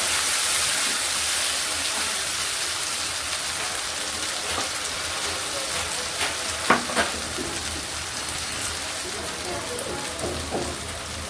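A ground paste of cumin, mustard, cashew, and dried and green chillies fries in a pan for a Bengali mustard pabda fish dish, giving a loud steady sizzle like rain with a few soft stirring knocks midway.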